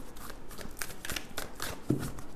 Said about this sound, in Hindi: मूनोलॉजी से लेंगे कुछ कार्ड्स।